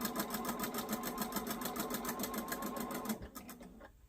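A sewing machine stitches quilt pieces with a quick, steady whir and needle chatter, close and even for about three seconds before slowing and stopping.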